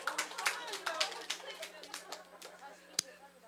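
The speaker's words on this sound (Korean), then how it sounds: "박수 한번 해주세요." An audience breaks into scattered, steady applause, many overlapping hand claps sounding close and moderately loud over background chatter and a low hum, with one sharper clap standing out near the end.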